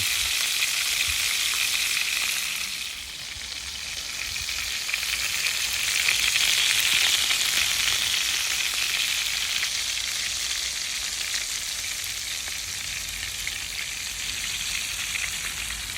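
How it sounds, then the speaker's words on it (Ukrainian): Continuous sizzling of meat frying in a clay pot on a clay stove over coconut charcoal, a dense crackling hiss that holds steady throughout, with no voices. "м'ясо в нас обсмажилось"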